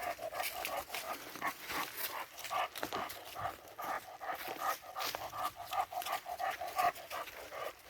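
A dog on a leash pants steadily and rapidly while pulling along a rocky hiking trail, the breathy rhythmic huffs close and fairly quiet, with no talking.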